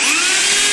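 A power drill boring nail holes into teak wood gives a loud, close, continuous high whine with a slowly rising pitch, a brief steady burst with no talking.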